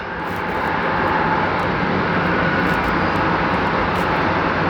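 Continuous engine roar of an airplane taxiing to the runway at DFW, steady and fairly loud throughout, with no voices.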